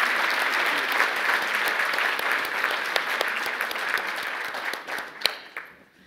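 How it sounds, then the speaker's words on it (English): A room full of people applauds, dense clapping holding steady before thinning out and tapering off at the end. "So let's have a round of applause."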